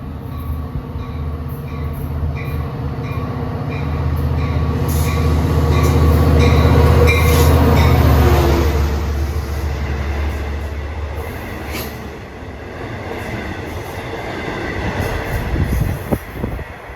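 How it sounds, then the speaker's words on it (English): A Long Island Rail Road train bound from Grand Central Terminal to Ronkonkoma rumbles past close by, a loud sustained roar that swells and fades with faint wheel squeal and rail clatter, no voices. "That was 2060 from Grand Central Terminal to Ronkonkoma."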